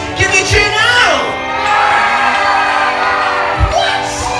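Audience at a live stage show cheering and shouting for Danny, a loud, sustained crowd roar with whoops and raised voices that swell and hold throughout, with voices mixed in.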